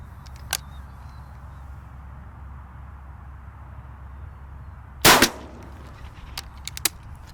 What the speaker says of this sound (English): that's going to be our 3 shots at this pattern board